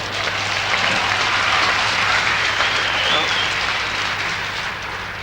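Concert crowd at a show clapping and cheering, a dense, steady wash of applause that holds throughout and tapers slightly at the end, with no clear speech over it.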